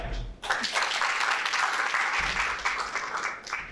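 An audience at a literature festival breaks into applause for a speaker, a dense, steady clatter of many hands clapping that starts abruptly and carries on throughout.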